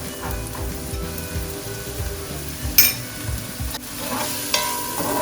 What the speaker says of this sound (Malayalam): ഇനി നമുക്ക് വലിയ ഉള്ളി ചോപ്പ് ചെയ്ത്, അപ്പോൾ അതൊന്ന് പെട്ടെന്ന് നമുക്ക് കുക്കാവാൻ കുറച്ച് ഉപ്പ് ചേർക്കാം.